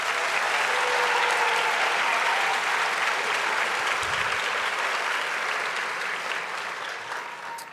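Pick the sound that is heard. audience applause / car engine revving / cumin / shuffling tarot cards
audience applause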